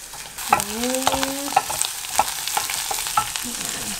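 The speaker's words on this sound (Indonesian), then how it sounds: "Ini sekarang kita tumis." Beef tetelan is sautéed in a pan for sayur sop, with a steady sizzle broken by repeated clinks and scrapes of a utensil against the pan, close and clear.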